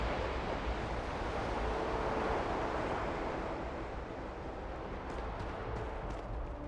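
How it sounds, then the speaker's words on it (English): Ocean surf rolls in a steady broadband wash along the shoreline of New Atlantis in the Starfield video game, a continuous soft roar with no talk over it. "And I think you also hear the sound of the waves."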